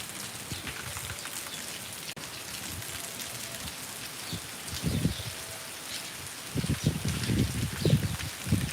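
Heavy rain pours steadily in a dense hiss on the ground and surfaces, with louder gusty surges of downpour near the end.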